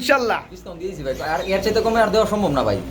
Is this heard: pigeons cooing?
yes